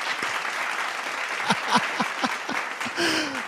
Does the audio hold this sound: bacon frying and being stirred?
no